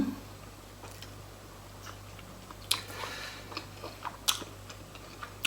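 Meatballs eaten with a spicy dipping sauce: quiet, close chewing and a few sharp bites and crunches scattered over a low steady hum, with no talking.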